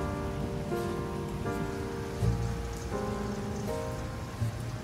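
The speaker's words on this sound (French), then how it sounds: "Il pleut quand nous débarquons et un typhon s'annonce." Rain patters steadily on a surface in Hawaii ahead of a typhoon, a soft continuous wash under a faint musical tone, with no talking.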